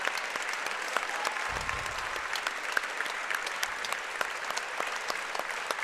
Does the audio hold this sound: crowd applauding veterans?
yes